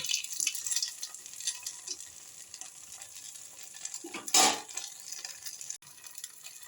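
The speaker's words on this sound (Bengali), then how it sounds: "এক চামচ আমি এই পোস্তর মিশ্রণটাকে দিয়ে দিয়েছি। তারপর একটু ভাজা ভাজা হয়ে যাক" A poppy seed fritter fries in a pan with soft, steady sizzling, a few light stirring scrapes and one louder spatter midway, no voices.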